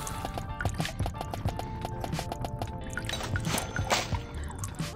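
Water trickles and drips through an espresso machine in the café game Espresso Tycoon, a steady close liquid patter with small plinking drops and light clicks running throughout.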